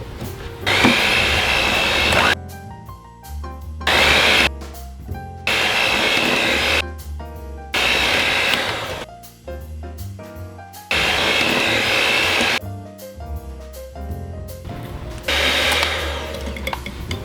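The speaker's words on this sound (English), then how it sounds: "You're going to add 1 egg at a time, mixing after each egg." An electric mixer whirs through pound cake batter in repeated bursts, cutting off between runs as eggs go in one at a time; loud, close and steady while running.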